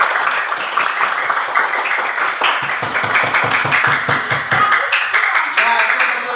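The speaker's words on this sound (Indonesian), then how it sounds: "Oke, tepuk tangan semuanya." A classroom of sixth-grade students claps together after a group presentation, a dense, steady patter of many hands close by that carries through the whole stretch, with a voice speaking faintly over it.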